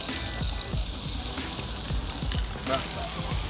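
Fish frying in oil at a seaside camp on the Caspian shore, a steady close crackling sizzle with dense popping spatters throughout, no talk.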